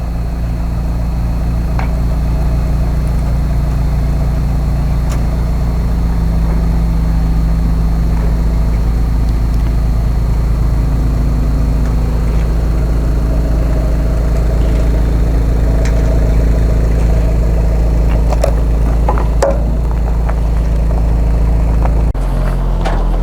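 A vehicle engine idles and creeps steadily as it backs down off an RV hauler trailer, a constant low rumble throughout with a brief clank near the end and no talk.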